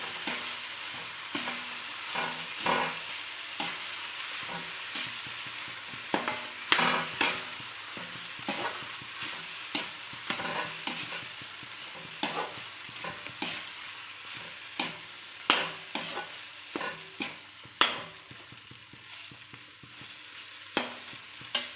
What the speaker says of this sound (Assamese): আকৌ লৰাই দিওঁ, গোটেইখিনি মিক্স হৈ নোযোৱালৈকে লৰাই থাকিব লাগিব।